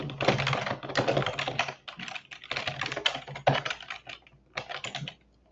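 Steady bursts of rapid keystrokes on a computer keyboard while a web form is filled in, close and fairly loud, with brief pauses between runs of typing and no talk.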